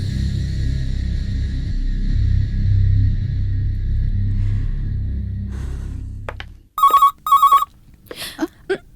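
An electronic telephone ring, an incoming call from dad in a Bollywood horror film, sounds in two quick bursts after a loud low rumbling score cuts out, followed by a couple of faint brief sounds in near-silence.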